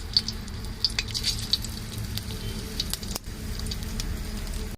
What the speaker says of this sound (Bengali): এখানে দেব গোটা জিরে ফোড়নে